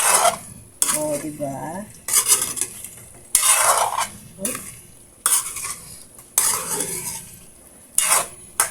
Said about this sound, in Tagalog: Tapos, haluin natin yung para manuot yung kanyang lasa.